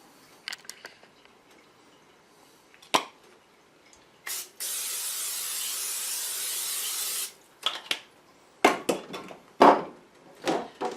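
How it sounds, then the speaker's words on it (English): A single sustained hiss of aerosol cooking oil sprayed into a pan on medium heat lasting about three seconds, surrounded by scattered clicks, taps and rustling handling noises. "then I use a little spray oil"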